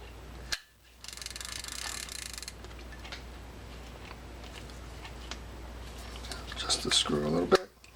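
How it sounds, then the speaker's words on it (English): The spool of a serviced Ocean City fishing reel turning by hand, giving a fine, quick ratcheting click close up over a low steady hum, ending in a brief louder burst of clicks. "A nice turn on our spool. Nice turn on the reel."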